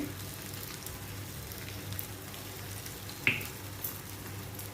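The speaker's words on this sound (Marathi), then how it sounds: "आणि आपल्याला आता ह्यामध्ये हे तेल सोडायचं आहे आणि बारीक गॅसवरच मी आता हे भाजून घेते" Ragi thalipeeth roasting in oil on a low flame, a faint, steady frying hiss close by with a few tiny pops and crackles, no talk.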